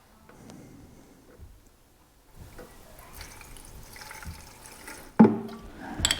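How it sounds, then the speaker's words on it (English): Fuel pours and trickles into a push lawn mower's fuel tank in short dribbles, close by, ending with a louder splash of filling near the end. "I'm just going to pour a small amount of this fuel in there."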